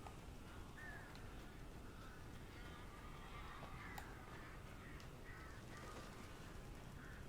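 Crows caw faintly in a dark forest in the game Alan Wake, with scattered calls heard distantly through a hiss of ambient wind.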